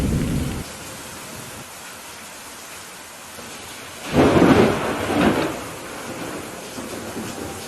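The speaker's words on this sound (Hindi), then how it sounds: "वो दोनों एक दिन साथ साथ अपने खेतों में गए और बारिश बहुत जोरों की होने लगी" Heavy rain pours steadily in a constant hiss, with a rumble of thunder rolling through midway before easing back into the downpour.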